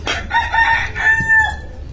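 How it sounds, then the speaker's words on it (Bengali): A rooster in a village crows loudly and close by, one strained rising call over faint background clucking from chickens. "মুরগির ডাক, পাখির ডাক।"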